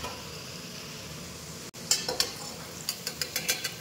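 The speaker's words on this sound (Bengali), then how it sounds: "গাজরগুলো এখানে আমি খুব হালকা করে ভেজে নিয়েছি, দেখুন ঠিক এরকম একটা পজিশনে তুলে নিতে হবে গাজরগুলো। তো আমি তুলে নিচ্ছি।" Lightly fried carrots lifted out of a hot pan while cooking veg dal, with a soft steady sizzle followed by a quick run of small metallic clinks as a utensil taps against the pan.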